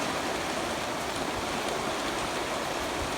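Steady broadband hiss of heavy rain pouring down during an afternoon thunderstorm, constant and even with no distinct drops standing out, no voices.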